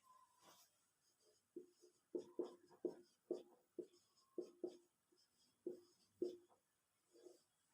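A pen writes on paper in a quiet room, a faint, close series of short scratchy strokes with brief pauses between them.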